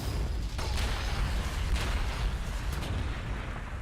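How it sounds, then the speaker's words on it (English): Artillery fire in the Warhammer 40,000: Gladius strategy video game, several dull booming blasts over a rumbling battlefield wash, moderately loud and somewhat distant. "Is that artillery attacking my aircraft from range?"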